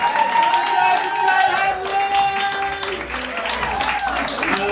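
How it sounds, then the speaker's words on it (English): Comedy club audience applauding, a dense steady roar of clapping and cheering that continues under and around a voice and music-like tones, fairly loud throughout. "Let's give that applause,"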